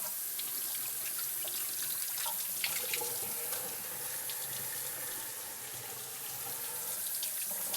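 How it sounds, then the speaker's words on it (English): Water runs steadily from a kitchen tap during hand washing, a continuous close splashing hiss at moderate level with small clinks, no one speaking. "I'm gonna wash my hands real quick."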